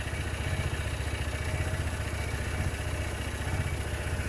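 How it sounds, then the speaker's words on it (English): Aprilia Sportcity Cube 300 salvage scooter idling, a close, steady pulsing engine beat with a slight rattle, running alone with no voices. "It starts, it runs, it idles."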